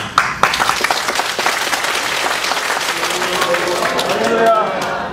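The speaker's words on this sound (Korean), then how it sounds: "먼저 박수 치시고" A church congregation at a Korean Methodist mission conference in New York applauds loudly as a bishop comes forward, sustained dense clapping from a large crowd, with a few voices rising near the end.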